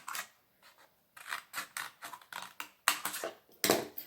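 Scissors snip through paper while cutting out a fish shape, a run of close, crisp crunching cuts in quick bursts with short pauses between them, heard alone.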